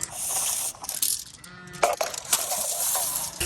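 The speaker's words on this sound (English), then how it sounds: "The sheep. And then the lamb's coming to see us." Sheep on a cattle farm bleat a couple of times at moderate distance, brief calls standing out against outdoor background noise and faint mechanical clatter.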